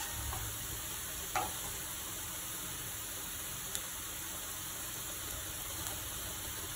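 Saffron and red chili are mixed into a simmering chicken curry, a faint, steady sizzle with soft stirring scrapes and an occasional light tick from a spoon against the pan, without any talking.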